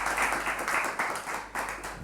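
An audience claps for a presenter at an economics dialogue event, a dense steady round of applause from many hands, close and sustained, swelling and easing slightly.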